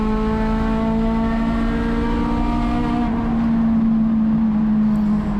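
Acura RSX race car accelerating hard on track at Sonoma Raceway, its engine note climbing in steady harmonic rise, close and loud from onboard, with a continuous drone throughout and no talk.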